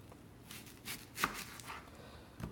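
A knife chops an onion on a board in a few separate, fairly quiet strokes with short gaps between them, close by and with no one speaking.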